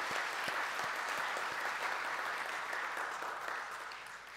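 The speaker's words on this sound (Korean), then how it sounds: "박수 드립니다" Sustained applause from a forum audience thanking a professor after an hour-long talk on the Catholic Church and Jeju society, dense steady clapping that slowly fades toward the end.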